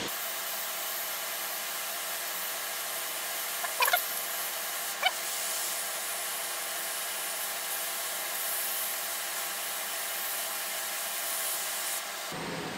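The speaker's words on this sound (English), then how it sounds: "So now we use hot air on these" A hot air rework tool on low airflow blows steadily across components on a circuit board, giving a continuous, fairly loud broadband hiss with a couple of brief clicks partway through before cutting off at the end.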